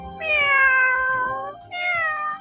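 A cat gives two clear, drawn-out meows, the first long and wavering and the second shorter, both close and loud with nothing else heard.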